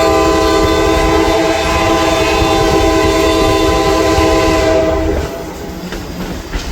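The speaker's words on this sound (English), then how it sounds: "1309 was the last of the articulated steam locomotives ordered for the CNO" C&O 1309, an articulated steam locomotive and the last Class 1 steam engine built by Baldwin Locomotive Works, passes with a loud, sustained chordal whistle over heavy rumbling, then the whistle cuts off and the rumble fades slightly.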